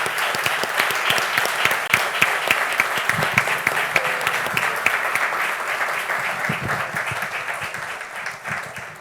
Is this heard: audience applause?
yes